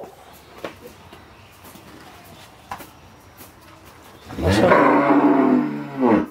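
After a quiet stretch with faint background noise, a calf lets out one long, loud moo close by.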